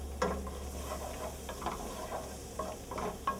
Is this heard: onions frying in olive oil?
yes